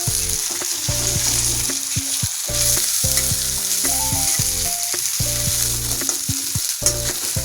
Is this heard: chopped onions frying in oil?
yes